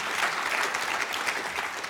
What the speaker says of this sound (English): Round of applause, please, for this gentleman.